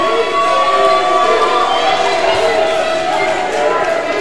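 Crowd at a wrestling arena cheering during a women's championship match, a dense continuous roar of voices with shouts, loud and steady.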